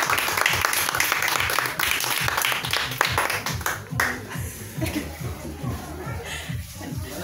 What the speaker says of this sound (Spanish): quiero que le den un fuerte aplauso